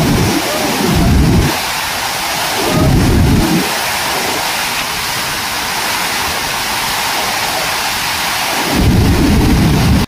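A heavy thunderstorm pours down on Valsad, Gujarat: dense, loud rain hisses throughout while deep thunder rumbles roll in several times, at the start and again near the end.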